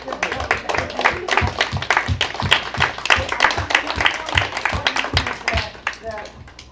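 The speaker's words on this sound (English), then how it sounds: "let's give her a round of applause" Audience applause at a Q&A event for a book talk, with dense, rhythmic clapping heard fairly close. Talk runs over it throughout before the clapping eases near the end.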